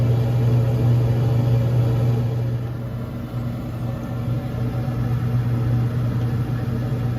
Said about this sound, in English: Fan is running and the auger is moving, so we're just going to hold that down until we see some pellets start to come out.